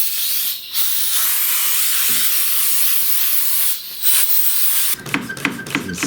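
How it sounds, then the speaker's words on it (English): Compressed air blows dust out of an 1892 Mason & Hamlin reed organ as a loud, close hiss in several long bursts with brief pauses, followed at the end by a few clattering knocks. "the next step would be some gentle compressed air and get all of the dust and everything out"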